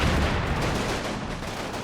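Dense, continuous rumbling gunfire and artillery blasts from the Combat Mission Final Blitzkrieg war game, including 90mm HE shells from an M36 hitting buildings, form an unbroken barrage.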